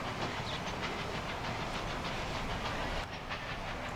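A train rolls along rails in a video game, producing a steady, dense rumble with a faint clickety-clack and hiss throughout, close and constant, with no talking.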